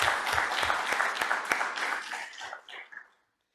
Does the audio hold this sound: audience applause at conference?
yes